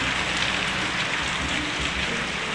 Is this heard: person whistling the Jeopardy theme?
no